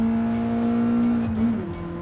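A race car engine in the racing game GT Sport drones at a steady high pitch, then its note dips and wavers near the end as the car slows and picks up again, loud and continuous with no voices.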